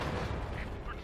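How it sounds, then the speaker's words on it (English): An artillery shell lands close by in World of Tanks, a loud, dense rumbling blast filling the whole moment. "That was the artillery, the S-51"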